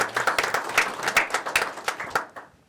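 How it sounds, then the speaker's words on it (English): Applause at a city council meeting honoring a police agency: a short burst of many people clapping in a room, dense and rhythmic, tapering off quickly into quiet. "That should be applauded."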